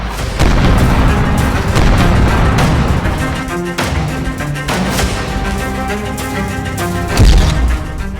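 Heavy booming blasts from bombing in Gaza and Lebanon rumble continuously, deep thuds and bursts overlapping with a loud crash near the end, dense and relentless.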